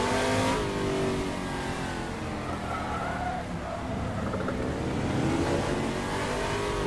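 Ligier race car in a VR racing game, a loud engine roar and tire noise dominating throughout, peaking at the start and swelling again toward the end as the car passes close by.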